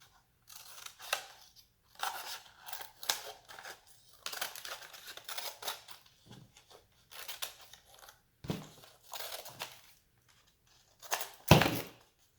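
Scissors cut paper for Christmas candy ornaments in a series of short, crisp snips and crunches, separated by quiet pauses, close and fairly faint, with a louder cut near the end.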